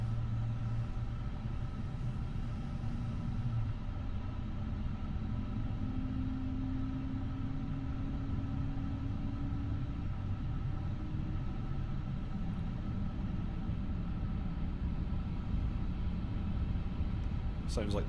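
An iniBuilds A350 airliner's engine runs up in a flight simulator, a steady low rumble and whine holding evenly throughout beneath cockpit hum, with speech present.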